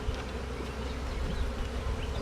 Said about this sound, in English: No one likes mean bees.